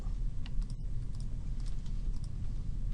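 Keys clacking on a computer keyboard during 3D drone modelling work, a few quick irregular taps over a steady low background hum, fairly faint and close.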